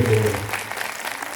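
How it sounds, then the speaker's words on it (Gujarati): An audience at a school event claps for a child's speech, a brief patter of applause that starts fuller and thins out quickly. "ફરીથી એકવાર દેવમને જોરદાર તાળીઓથી વધાવીએ"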